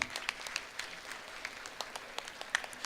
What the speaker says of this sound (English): A big applause for Shankar IAS Academy, Chennai.